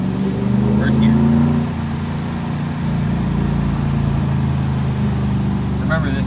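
A 2015 Ram truck with the 6.4 engine and Flowmaster FX exhaust pulls away in first gear. The deep exhaust note rises, drops back, then holds a steady drone under talking in the cab.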